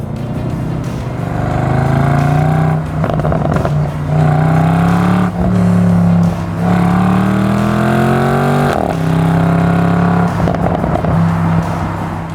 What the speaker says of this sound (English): Just listen to me rev this thing.